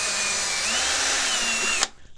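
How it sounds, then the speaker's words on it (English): A power drill drilling a tiny hole into the end of a wooden dowel whirs steadily at close range for nearly two seconds, its pitch shifting slightly as it bores in, then cuts off abruptly. "we're going to drill a tiny hole in the end of our dowel"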